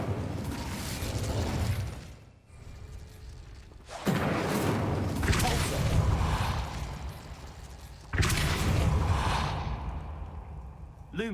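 An Incendio fire spell from the Harry Potter wizarding world bursts out in three separate whooshing, roaring blasts. Each flares up suddenly, then crackles and fades.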